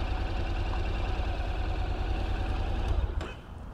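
A 2021 Honda NC750X DCT motorcycle engine idles close by with an uneven, stuttering low rumble that fades out near the end, no talking.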